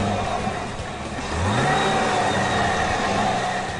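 A 2011 Cadillac CTS-V Coupe with a 6.2-litre supercharged V8 rumbles steadily, then revs up midway with a rising engine note, loud and close with no talking.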